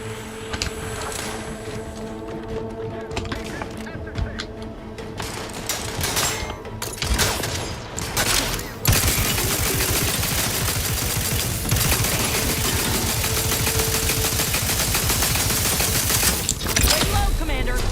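Gunfire in The Outer Worlds 2 video game, with a sniper firing: scattered shots and clatter, then a sustained loud barrage of rapid gunfire and explosions with brief voices mixed in.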